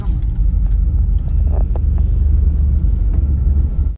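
An air-conditioned passenger bus cruising along a highway, heard as a heavy continuous low engine and road rumble that stays loud and steady, with a few faint rattles and no talking.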